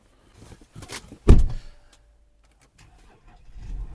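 A 2013 Audi Q7 engine starts: a sharp, loud starter burst cranks briefly, followed after a pause by a low, steady idle rumble rising near the end, close by and without talk.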